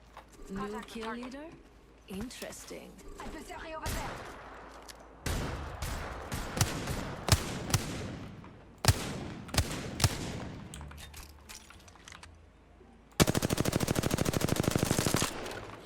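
Apex Legends gunfire comes in rapid automatic bursts and single shots, loud and close, ending in a long, dense stream of fire. A player speaks over the early part.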